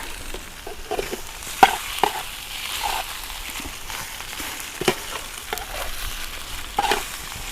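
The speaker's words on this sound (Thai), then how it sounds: "เอา เอียนหรือปลาไหลลงไปพัดพี่น้อง" Oil sizzles steadily in a hot pan as eel is stir-fried, with sharp scrapes and clicks of a spatula breaking through every second or two.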